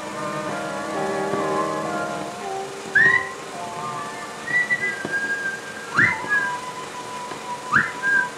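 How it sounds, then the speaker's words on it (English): An odd whistle from a 1953 film sounds out as several short rising chirps in bursts, with a low mechanical hum fading beneath the first part. "That was a strange whistle."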